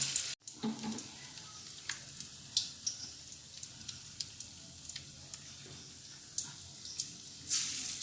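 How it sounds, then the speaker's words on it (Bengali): Paneer kofta balls lightly coated and dropped into hot oil in a steel kadai over low heat, giving a steady soft sizzle with scattered small pops and clinks, close and quiet, with no talking. "এই যে এইভাবে তেলের মধ্যে ছেড়ে দেবো।"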